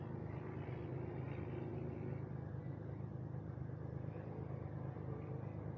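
Honda Goldwing motorcycle fitted with a car tire rolling along the road, a steady low engine rumble and road drone throughout, constant and fairly quiet with no talking.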